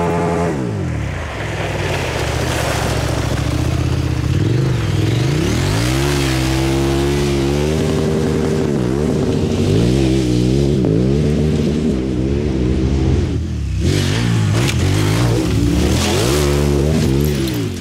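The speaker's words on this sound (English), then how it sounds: "what happens in manual mode if I hit the rev limiter?" A KTM motorcycle with an automated manual transmission revs hard and holds against the rev limiter, its loud engine note climbing, stuttering and bouncing repeatedly, close up with no talk.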